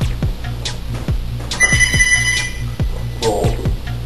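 A telephone rings indoors in a kitchen, sounding in several bursts while a blender or mixer thumps rhythmically underneath, with no talking.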